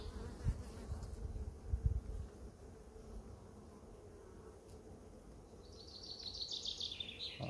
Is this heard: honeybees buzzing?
yes